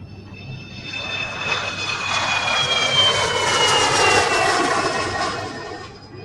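Steady airliner engine drone heard from inside the cabin as the plane descends toward landing, a broad even roar that swells slightly, with a faint whine over it.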